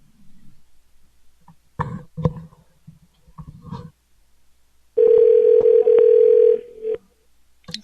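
A telephone dial tone sounds while a call is placed, a steady tone lasting under two seconds after several clicks and handling knocks, heard close and clear in a quiet room.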